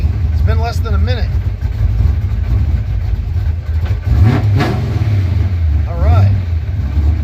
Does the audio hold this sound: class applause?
no